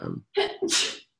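A single sneeze indoors in a quiet room, a short sharp two-part burst lasting about a second, fairly faint and close.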